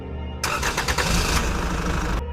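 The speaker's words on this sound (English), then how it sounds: "The car reversed," A car engine running as the car backs up, a close, loud, rough mechanical roar that holds steady for about two seconds and then cuts off abruptly.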